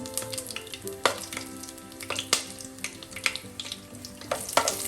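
Whole spices (cinnamon, cloves, cardamom, fennel, bay leaves, star anise) frying in hot coconut oil for a Kerala chicken curry, a close crackling sizzle punctuated by sharp pops and stirring scrapes, with no talk.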